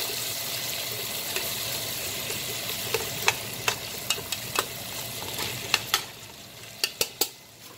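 Goat meat fries in a pot for curried goat, with a continuous hissing sizzle and a series of sharp spatters and knocks that grow more frequent toward the end.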